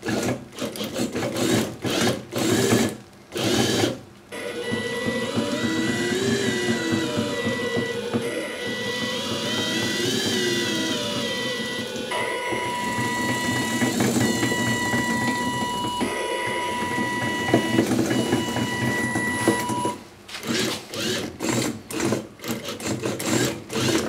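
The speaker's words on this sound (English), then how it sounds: "the washing machine motors that drive the robot" Washing machine motors drive a robot through a test routine of changing speed, reversing and braking. A steady whine rises and falls in pitch over long stretches, with choppy stop-start clatter at the beginning and end.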